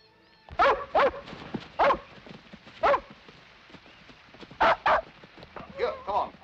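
A dog barks in a 1964 crime thriller scene, giving several sharp, separate barks spaced irregularly over a few seconds, fairly close, with some voices in the background.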